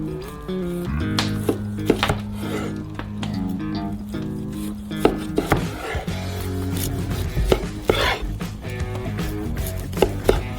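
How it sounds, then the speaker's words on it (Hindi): Homemade ham is chopped with a knife in repeated uneven strikes, some sharp and loud, under steady background music. "घर का बना हैम भी पहले तैयार है। हमने इसे काट दिया।"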